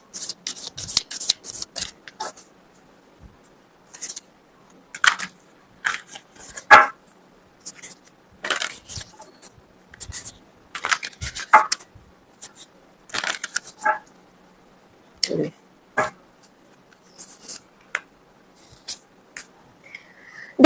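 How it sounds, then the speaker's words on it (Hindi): Tarot cards shuffled and drawn by hand, giving soft papery swishes, flicks and taps in irregular bursts, close and fairly quiet, with brief pauses between. "चलिए और 2 कार्ड आपके लिए निकाल देती हूँ।"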